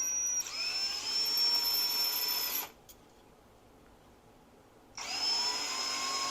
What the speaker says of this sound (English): it's a piston ring filer, and you see how the ring kind of sits in there, and he's going to file